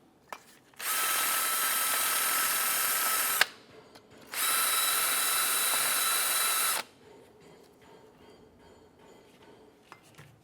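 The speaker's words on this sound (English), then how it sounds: "Use a bore brush." A bore brush spun by a power tool scrubs the ports of a front brake caliper bracket on a 2006-2011 Honda Civic, giving two sustained high whirring bursts separated by a short pause, then quiet clinks.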